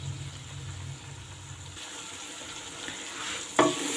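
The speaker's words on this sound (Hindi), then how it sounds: "हमारी सब्ज़ी को कुक होते हुए भूनते हुए मुझे तकरीबन 10 मिनट हो गए।" Potato and pea curry vegetables for aloo matar salan fry quietly in a pan, a soft sizzle with a low hum at first and a sharper stirring scrape near the end.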